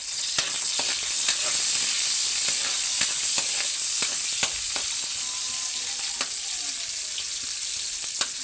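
Red onions sizzling in hot oil in a pan, a steady close crackle with sharp spatula clicks against the pan scattered throughout.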